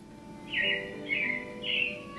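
Robin chirps at Disney's Carousel of Progress: three clear, bright whistled calls in a steady, evenly spaced row, close and fairly loud over a quiet hum.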